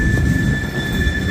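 A Union Pacific freight train rolls past in St Paul with a loud, close low rumble of wheels on rails. A high, steady squeal of the wheels rides on top.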